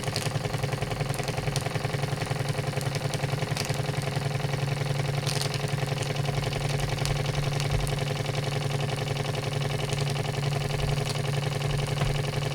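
A Wilesco D16 toy steam engine running, a steady rapid mechanical chugging with an even hum and a few light clicks, close and continuous for over twelve seconds with no talking.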